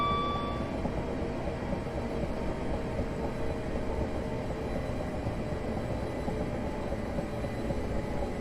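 An eight-car Class 375 electric train runs in Train Simulator 2018 on the London Victoria to Ramsgate line, giving a steady rumble of cab and rail noise with a few faint tonal whines. The sound stays continuous at even volume.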